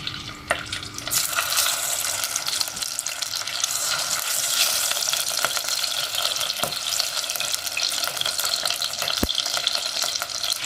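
Thin slices of meat frying in a pan for a green fava bean maqluba, a steady close sizzle with occasional sharp pops and clinks over the crackling.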